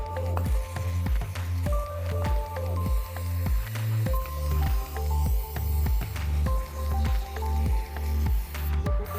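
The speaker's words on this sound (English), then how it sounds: "Now just take the cleaner, shake it up a bit," Aerosol air filter cleaner sprayed over a Yamaha TW200 air filter, heard as repeated hissing, squishy bursts in a steady rhythm, close and moderately loud, with no talking.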